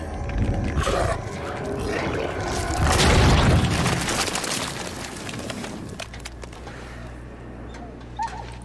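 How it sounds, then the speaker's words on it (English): Gory corpse explosion from the Diablo 4 necromancer cinematic: a dense, loud burst of cracking and splintering debris swelling around the middle, then thinning to scattered crackles over a low rumble. "I don't know if that was corpse explosion or blood explosion corpse"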